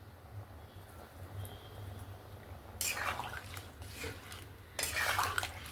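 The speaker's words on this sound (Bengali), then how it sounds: "লবণটা দিয়ে ভালো করে একটু নাড়াচাড়া করে নিলাম" Salt is stirred into a Bengali prawn and raw jackfruit curry in a pot, two short bursts of scraping spoon-against-pan movement over a quiet, low background hum.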